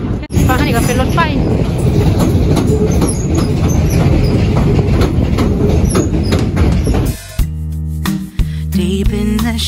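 A train rumbles loudly past on the rails in London with a dense clattering roar, then cuts off abruptly into a music passage.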